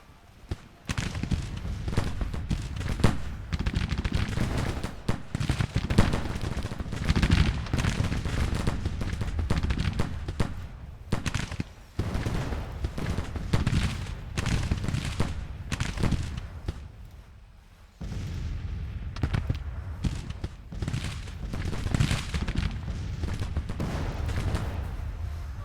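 Dense, continuous gunfire from massed rifles and artillery in an American Civil War video game battle, with crackling volleys and heavy booms overlapping almost without pause for the whole stretch, loud and close.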